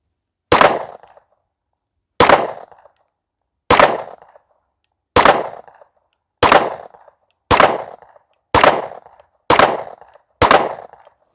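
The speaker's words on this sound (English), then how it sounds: "First, we'll do the Kimber just because I already have it in my hand. We'll just see, can we get through this magazine at the very least?" A Kimber pistol fires a full magazine: nine sharp, loud single shots spaced roughly one to one and a half seconds apart, each ringing briefly before silence, with no talking.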